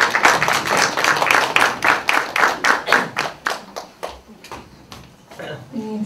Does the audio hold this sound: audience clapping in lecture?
yes